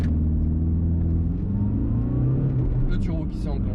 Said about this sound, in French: Le turbo qui s'est enclenché, vous l'avez entendu.